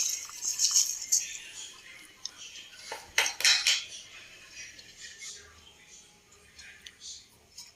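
Sugar and flour being beaten together in a metal vessel for Malabar-style Kannur appam, with light clinks and scraping taps of a utensil against the pot, clustered near the start and a brief louder burst midway, then quieter.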